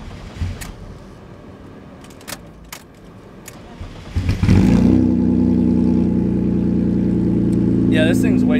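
A BMW E36 with a loud, too-loud exhaust starts up and settles into a strong, steady engine drone after a few seconds of quieter clatter and speech. A voice talks at the start over faint handling noises.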